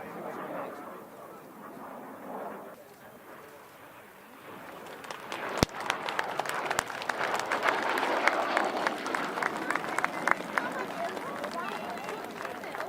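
At an airshow, a crowd breaks into applause after a display aircraft's final pass; quiet, low ambience gives way to a sharp crack and then sustained, dense clapping that continues to the end.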